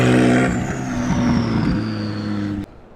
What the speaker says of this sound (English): He's gonna give us a couple revs in the 600 LT.